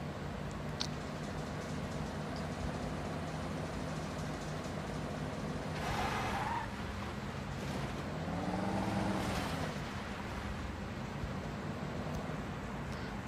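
Car driven at full speed in a realistic driving video game, a steady engine drone and road rumble under broadband noise, with a couple of passing swells of other vehicles sweeping by midway.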